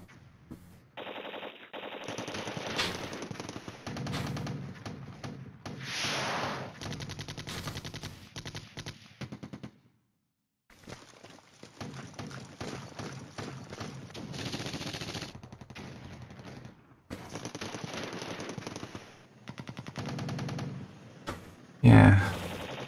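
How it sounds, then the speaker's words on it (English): Artillery and rapid gunfire in the wargame Flashpoint Campaigns: Red Storm, long crackling bursts of machine-gun-like fire broken by a short silence, with someone talking over the battle. "They're bringing a heavy amount of artillery today"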